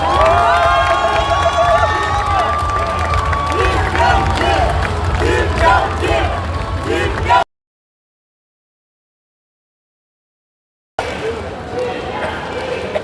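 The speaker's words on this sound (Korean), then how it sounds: "여러분, 큰 박수 부탁드립니다" A large crowd at a Korean party national convention cheers and claps loudly, with voices calling out over the din; the noise cuts to silence for a few seconds, then resumes at a lower level.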